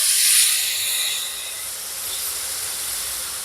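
Milk poured into a pan of hot browned flour (maida) sets off a loud, steady hiss of sizzling steam that peaks early and then settles into a softer, even fizz, with no voices.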